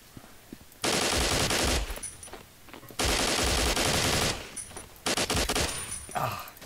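AK rifle fire in a blocky online shooter game in capture mode, three loud sustained bursts of rapid automatic shots separated by short pauses, with the last burst choppier and more broken up.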